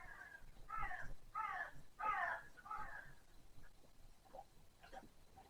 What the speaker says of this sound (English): Got a nosy crow.